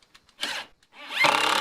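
A power drill bores a hole through OSB flooring during house plumbing work, with a short burst of whirring, a pause, then a longer, louder sustained drilling run heard close up.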